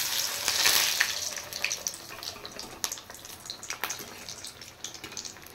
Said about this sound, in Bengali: এবার এটা আমি আবার তেলে ছেড়ে দেব।